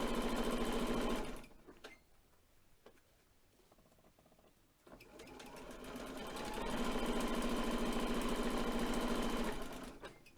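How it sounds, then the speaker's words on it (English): A sewing machine stitches along the long edge of a fabric face covering, running in steady loud bursts at the start and end with a quieter pause between. "holding it in place and stitching along the long edge"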